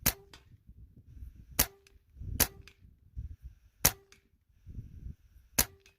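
A Benjamin Maximus .177 air rifle fires 18-grain flat-base hollow-point Griffin slugs at 40 yards. Five sharp, crisp cracks come at uneven intervals with quiet handling noise between them.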